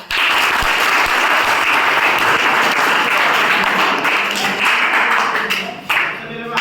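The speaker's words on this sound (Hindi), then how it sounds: "सभी के लिए तालियां बजाएं" Loud, sustained applause from an audience at a government school career counselling program, a dense wash of clapping that fills the whole stretch and thins slightly near the end.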